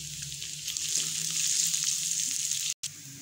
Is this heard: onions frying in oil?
yes